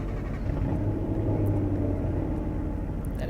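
A low, steady engine rumble idles continuously, deep and close, with no voices over it.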